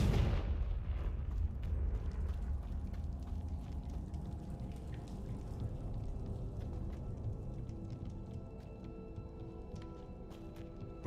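Blasting spell Confringo going off in Hogwarts Legacy, a loud burst at the onset followed by a dense, sustained rumbling roar with crackling debris-like ticks scattered through it, continuing without letup and no voices.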